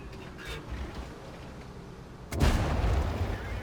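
A tank cannon fires in World of Tanks, a single heavy boom that hits midway and rolls on as a loud rumbling blast over steady engine and battle noise.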